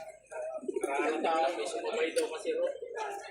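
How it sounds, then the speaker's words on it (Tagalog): Racing pigeons arriving at a loft at the end of a race, with soft cooing and bird calls close by, mixed in under continuous talk from a man nearby. "Dito na dumadaan yung ibon mo."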